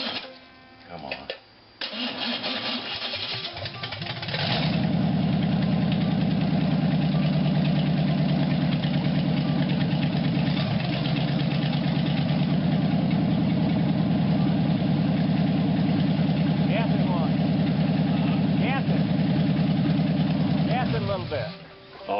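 A rat rod truck built from an old pulpwood truck cranks over, catches and settles into a loud, rough, steady idle that runs close by for many seconds, with voices talking over it.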